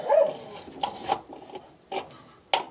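A dog barks in short separate bursts, three or four sharp barks spaced over a couple of seconds, in a workshop where an Audi A3 Sportback subframe mount is being repaired.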